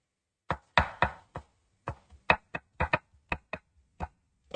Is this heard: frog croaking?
no